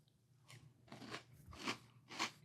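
Pebbles Crunch'd cereal in milk being chewed, four distinct crunchy bites spaced about half a second apart, close-up and fairly quiet, with no talking.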